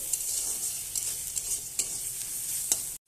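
Spices with ginger and garlic sautéing in a pan for palak paneer, a bright constant sizzle with occasional scrapes and taps of a stirring spoon, close and steady before cutting off abruptly.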